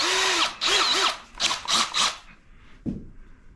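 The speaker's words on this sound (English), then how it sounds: "now go ahead and drill this out" A power drill boring holes into sawmill lumber for a rustic nightstand, in several close, loud bursts of whining rotation that rise and fall in pitch, then stop, with a short clatter at the end.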